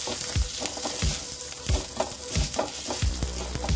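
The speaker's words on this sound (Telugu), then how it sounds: "కొద్దిగా జీలకర్రని వేసేసి ఒకసారి ఇలా ఫ్రై చేసేస్తున్నాం." Cumin seeds fry in hot oil in a pan for pulagam, giving a steady, close crackling sizzle broken by repeated sharp clicks and taps of a stirring spoon against the metal.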